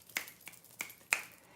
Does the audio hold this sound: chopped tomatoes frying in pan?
no